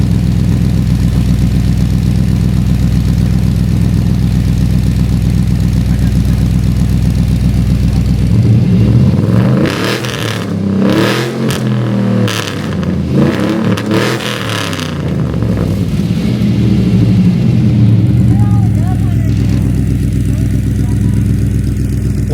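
A 1984 square body pickup truck with cherry bomb mufflers idles in a steady low rumble, then revs in several loud bursts mid-way before settling back to idle, with talk around it.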